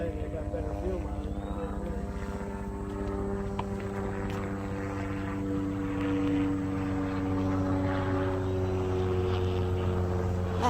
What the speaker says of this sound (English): That airplane, helicopter's flying low.